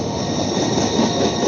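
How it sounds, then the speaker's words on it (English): A train rolls along railway tracks in an advertisement, with a dense, loud rumble of wheels and rail noise and a faint squeal, heard without voices. "Trains."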